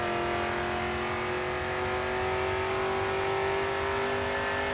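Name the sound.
front-engine rear-wheel-drive race car at full throttle, video game GRID 2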